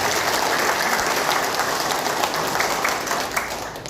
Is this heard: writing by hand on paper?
no